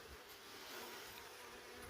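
A soft, continuous buzzing of many calm honeybees humming close by during a hive inspection, steady and low with no voices.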